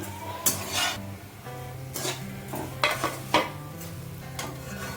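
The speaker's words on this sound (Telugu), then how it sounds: "ఇవి కొంచెం బ్రౌన్ కలర్ అయ్యే వరకు ఇలా ఫ్రై చేసుకుంటూ ఉండాలండి." Bread slices frying in ghee in a pan, with a soft continuous sizzle broken by several clattering stirs and scrapes of a utensil against the pan, close and moderately loud, no talk.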